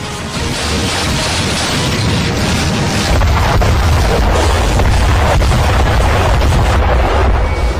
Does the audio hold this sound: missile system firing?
yes